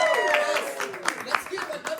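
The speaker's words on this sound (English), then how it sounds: "let's give a round of applause to everybody who just came in" Guests at an art unveiling applaud newcomers as they arrive, with light, scattered clapping heard under lively crowd chatter in a busy room.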